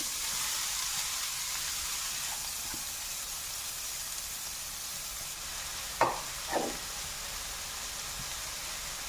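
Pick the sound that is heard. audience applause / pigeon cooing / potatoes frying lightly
potatoes frying lightly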